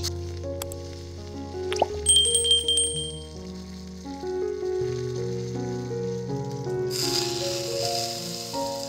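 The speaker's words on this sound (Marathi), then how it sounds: "मोहरी तडतडायची अशी चांगली तडतडली ना, त्यात कढीपत्ता टाकायचा। कढीपत्ता ओला असतो म्हणून सावकाश टाकावा।" Curry leaves hit hot mustard-seed tempering oil for a coconut chutney, and a sudden bright sizzle bursts in near the end after a stretch of soft tonal background music.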